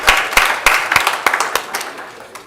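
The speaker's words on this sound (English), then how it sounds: "Can we again have a big round of applause for the portal?" An audience applauds at a government portal launch event, a burst of clapping close and lively at first, thinning to scattered claps as it fades.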